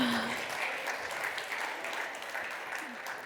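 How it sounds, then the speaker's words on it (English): An audience at an energy transition start-up award ceremony applauds the winners, a dense, even wash of clapping from a crowd sustained throughout. "A round of applause."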